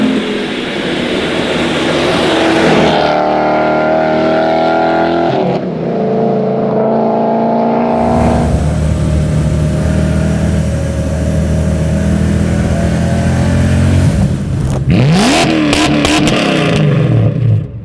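Supercharged M62 V8 swapped into a BMW E30, revving hard up to the soft limiter nearby: loud rising engine roar with supercharger whine, brief drops between throttle stabs, then choppy stuttering bursts as it bounces off the limiter.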